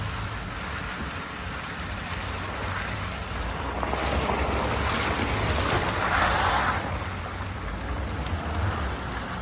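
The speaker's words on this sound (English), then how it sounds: "we'll go through this mud puddle, and I'll show you how nasty it really is" A 2016 Chevy Silverado pushes through a nasty mud puddle in auto mode, giving a steady broadband wash of splashing and rushing noise with a low engine drone, swelling louder in the middle.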